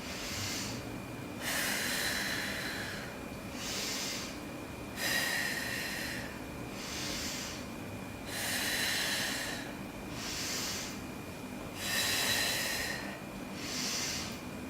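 Slow, deep nasal breathing held in yoga lotus pose, with long inhales and exhales alternating in an even rhythm over a quiet background hum.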